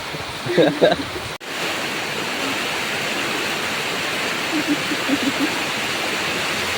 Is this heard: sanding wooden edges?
no